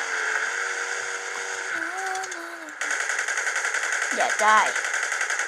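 Rapid bursts of gunfire from the video game Battlefield Heroes rattle over a steady droning background, with a player's voice talking and shouting over the shooting.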